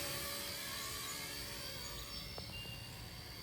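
A tiny K170 Black Hawk UH-60L RC helicopter flies in low mode, giving off a steady, high, whining buzz that holds at an even level and stays close throughout, with no talking.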